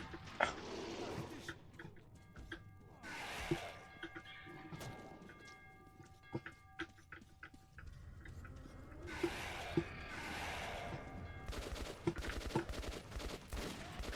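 Sharp pistol shots crack out in scattered bursts in the video game Metro 2033, some single and some in quick succession, over a steady background drone.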